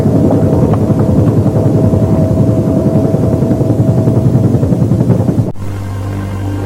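Helicopter rotor and engine drone, loud and steady with a dense pulsing chop, dropping abruptly to a lower hum near the end.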